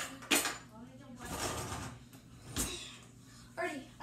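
Metal spoons clatter and clink against each other as one is pulled from a cutlery drawer or holder in a kitchen, giving a few sharp rattles close by, with brief talking between them.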